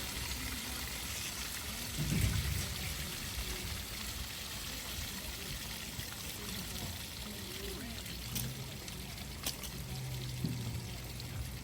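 Excess water pours out of a water tank at a homestead, a steady low rushing flow running throughout with a few small splashes and bumps, moderately loud and without talk.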